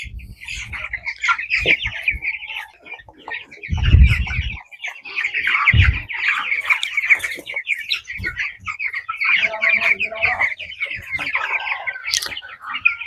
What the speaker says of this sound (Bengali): এখানে মুরগি নষ্ট হইতেছে কিন্তু মুরগিগুলো দেখলে সুস্থ মনে হয় দেখুন